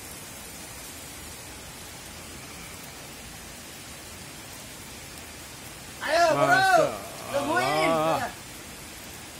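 Heavy rain pours down steadily during an overnight camping trip at Rawa Gede, a dense, even hiss throughout, and a voice briefly speaks over it near the end.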